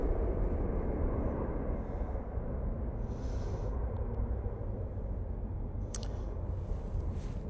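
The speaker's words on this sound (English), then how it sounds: "EasyJet departing." An EasyJet airliner departs Manchester Airport, a steady broad roar of jet engines heard from a distance that holds evenly throughout with no voices.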